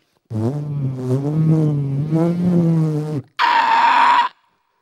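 A voice imitates a car starting and pulling away, with a drawn-out, rising engine-like hum followed by a short, sharp burst of breathy noise, performed live by a mimicry artist.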